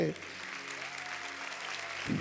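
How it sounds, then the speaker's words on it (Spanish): A church congregation at a worship service applauds in a steady wash of clapping, while a voice speaks briefly at the start and again at the end. "le damos un aplauso al Señor por el pastor Sergio"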